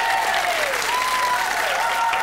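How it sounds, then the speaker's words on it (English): A TV game show studio audience applauds a contestant being introduced on a 1992 episode of Blockbusters, with steady, full clapping throughout and a faint tonal sound running under it. "A round of applause."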